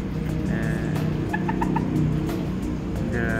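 Young Tan Chau bantam chickens cluck and peep in a few quick bursts over a steady, loud rumble of background noise.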